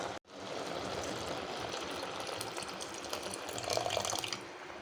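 The second extract of milk is poured into a pot of cooked dal, giving a soft, steady liquid pour and splash that lasts several seconds, faint and alone.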